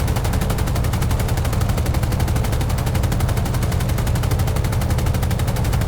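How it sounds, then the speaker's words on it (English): Machine guns of a Grumman F4F-4 Wildcat firing in a flight simulator, a loud, continuous rapid rattle of bursts that runs unbroken the whole time, close and dense, with no talking. "Okay, so level out, fire the guns now."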